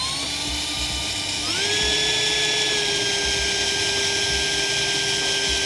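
A power drill with a 7/32-inch bit whirs with a steady high-pitched whine, drilling a hole while installing a carbon intake on a Mercedes-AMG G63. Its pitch steps up partway through, then holds evenly and loudly to the end.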